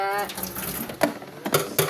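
Water pours from a gallon container in short bursts, splashing close by with a few brief sloshing spurts, and a voice is heard briefly at the start.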